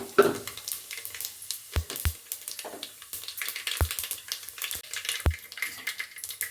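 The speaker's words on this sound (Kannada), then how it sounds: "ಎಣ್ಣೆ ಕಾದಿದೆ ಇವಾಗ ನಾನು ಸಾಸಿವೆನ ಹಾಕ್ಕೊಳ್ತೀನಿ ಮತ್ತು ಜೀರಿಗೆನ ಹಾಕ್ಕೊಳ್ತಾ ಇದ್ದೀನಿ ಸ್ವಲ್ಪ" Mustard seeds and cumin hit hot oil in a pan, giving a soft crackling sizzle dotted with sharp pops and spits, close by and fairly quiet.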